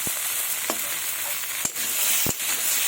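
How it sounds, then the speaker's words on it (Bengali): Potato, eggplant and tomato fry in hot oil with a steady, close, loud sizzle, broken by a few sharp scrapes of stirring. "খুব সুন্দরভাবে আমার আলু বেগুন টমেটো তেলের মধ্যে ভাজা হয়ে গেছে, প্রায় সেদ্ধ হয়ে গেছে।"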